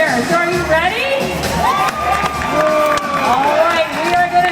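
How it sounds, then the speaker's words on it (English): Audience at a SeaWorld San Diego dolphin show cheering and shouting, many children's voices in a steady, loud crowd roar that continues throughout. "we are going to have to cheer just a little bit louder than that"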